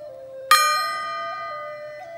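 A small gong is struck once, ringing out with a bright shimmering tone that slowly fades while a steady hum continues underneath.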